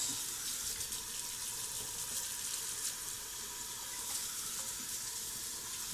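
Tap water runs steadily into a kitchen sink for a quick rinse of a pan after cooking on an induction burner, a continuous close hiss with no talking.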